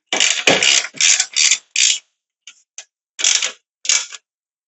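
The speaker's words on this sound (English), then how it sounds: "I'm going to hold on to the back of it with an 18 wrench. Ratcheting swivel head wrench" Rapid clicking bursts from a ratcheting swivel-head 18 mm wrench snugging strut bolts on a 2008-2012 Ford Escape Hybrid during front bearing replacement, five quick ratchet runs then a few shorter ticking strokes, close and alone.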